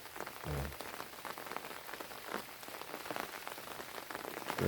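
Steady rain falls on a vegetable garden with eggplant and pepper plants. It makes a soft, continuous patter of drops on leaves and soil, close and even, with no voices.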